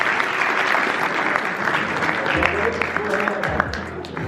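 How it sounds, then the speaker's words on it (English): An audience at a football leadership conference applauds to welcome a speaker onstage: a dense, sustained wash of clapping that thins slightly toward the end, with a voice starting to talk over the tail. "That is the first time you've ever got a round of applause"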